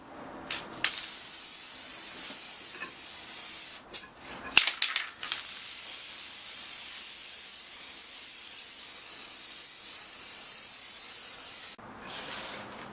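A spray can lays a coat of paint over a chrome Toyota Tundra grill surround, giving a steady, close hiss that runs for several seconds after a few short bursts, ending in a brief pause and a final spurt.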